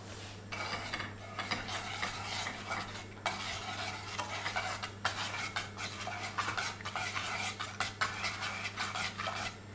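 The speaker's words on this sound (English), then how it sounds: "Mix all ingredients." Ingredients with salt being mixed in a bowl with a utensil, a steady run of scraping, clinking stir strokes, close and fairly loud, with a low hum underneath.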